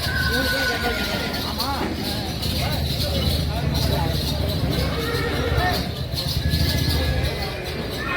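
Horses whinny repeatedly at a horse show at the Anthiyur livestock market, with neighs rising over a busy crowd and hoof clatter, and a person talking throughout.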